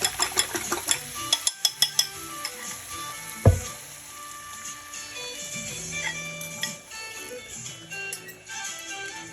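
Egg poured into a hot pan with vegetables, a steady soft sizzle of frying with a run of sharp utensil taps at first and one heavier knock, fairly quiet and close.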